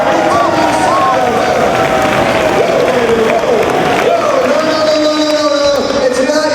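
Wrestling crowd at a Ring of Honor third anniversary show, clapping and cheering loudly and steadily throughout, a dense wash of applause with voices rising and falling in the arena.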